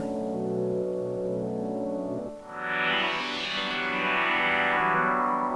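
A sustained synthesizer sine-wave tone with stacked harmonics from FM shifts midway into a brighter, buzzier timbre as the FM modulation deepens, with no one speaking.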